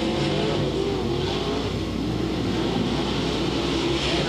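Late model race cars roar together through a heat race at Crossville Raceway, a dense, steady engine drone that stays loud throughout.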